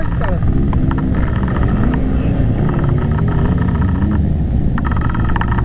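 A car engine drones loudly and steadily while the clutch is slipped and burning, with people talking over the rumble throughout.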